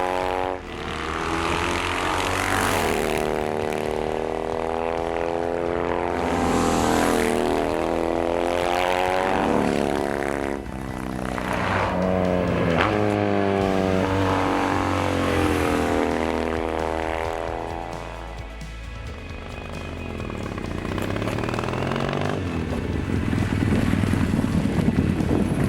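Triumph Thruxton café racer motorcycle carving canyon turns, its exhaust note rising and falling steadily through gear changes, loud and close with heavy wind buffeting throughout.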